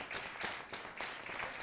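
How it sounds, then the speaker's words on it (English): A conference audience applauds for Politico's chief foreign affairs correspondent, a brief, soft, steady patter of clapping heard from a distance. "please give them a round of applause"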